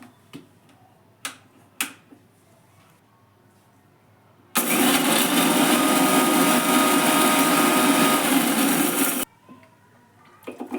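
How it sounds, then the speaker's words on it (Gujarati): A mixer grinder jar grinding cooled spice masala runs in one loud, steady whirring burst of about five seconds, preceded and followed by quiet clicks and taps of handling the jar. "આપણો મસાલો પણ ઠંડુ થઈ ગયું છે, એને મિક્સર જારમાં પીસી લઈએ"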